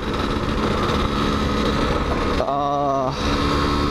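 A Suzuki Satria 120 R two-stroke motorcycle engine, about 20 years old, runs steadily and loudly throughout, with a brief higher-pitched revving tone rising over it near the end.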